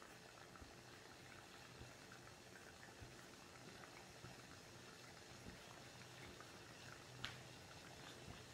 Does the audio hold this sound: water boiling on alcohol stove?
yes